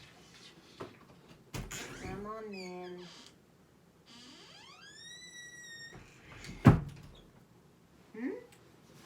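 A door opening to let a cat in at bedtime, with meows and a click of the latch, loud bangs near the middle, and a person speaking briefly between the sounds.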